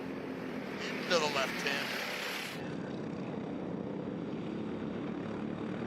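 Racing motorcycles accelerate on the track at Adams Motorsports Park: a whining engine rises and sweeps past, then settles into a steady drone, while a commentator talks over it.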